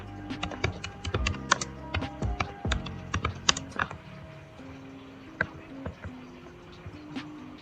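Typing on a computer keyboard, fast clusters of sharp key clicks at close range that thin out into sparse, scattered taps toward the end.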